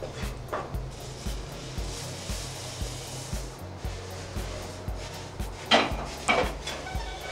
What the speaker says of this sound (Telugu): ఇప్పుడు ముందుగా ఫ్రై చేసుకున్న బొరుగుల్ని ఇందులో వేసుకొని కలుపుకున్నాం.